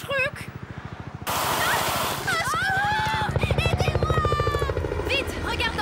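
Helicopter from a Totally Spies! cartoon episode, a steady rhythmic rotor chop running loud throughout beneath animated voices and effects.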